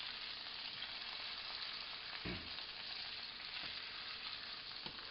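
Beef fillet for a Wellington sears in a hot pan, a steady close sizzle running throughout with a couple of soft thumps as the meat shifts.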